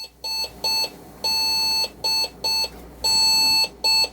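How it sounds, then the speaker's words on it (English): Computer BIOS beep code signalling missing memory: electronic beeps in a repeating pattern, one long tone followed by two short ones, loud and close with a faint hum beneath. "right away it started beeping"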